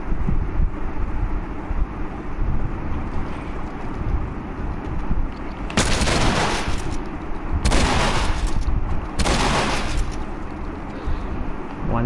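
Gunfire in The Last of Us, three sharp loud shots spaced a couple of seconds apart over steady windy background ambience.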